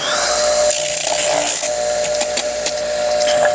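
A knife is polished on a high-speed leather wheel of a sharpening machine for serrated and bread knives, giving a loud, steady whine with a buzzing hum and brief scraping bursts as the blade meets the wheel.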